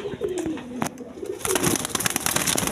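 A pair of Gola pigeons coo in repeated low, throaty phrases close by, followed by a burst of rustling noise.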